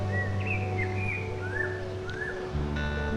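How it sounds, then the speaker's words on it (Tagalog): Several short bird chirps sound in a park trail over a steady low hum, with a soft background drone throughout. "May mga ibon din."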